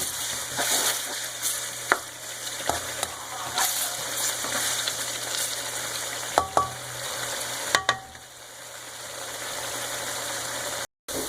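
Chopped garlic frying in hot oil until golden, a steady close sizzle broken by sharp clicks and scrapes of stirring, over a low droning background hum.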